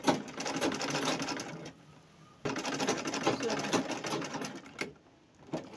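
A sewing machine stitches fabric in close, rapid bursts of mechanical chatter. Short pauses separate the runs.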